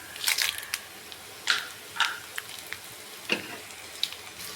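Dried red chillies crackle and pop in hot oil in a pan while making a raw mango roti pachadi, sharp sizzling bursts arriving in irregular clusters, close and fairly quiet.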